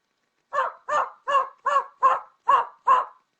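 A person imitates a dog barking, producing seven evenly spaced, loud, close bark-like yelps in a steady rhythm with no other sound between them.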